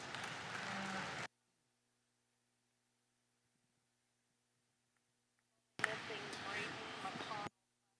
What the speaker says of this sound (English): You got to give them a round of applause.